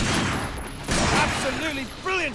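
Gunfire in the video game Binary Domain, a dense rattling fusillade of rapid shots that runs through the whole stretch, with voices chattering over it.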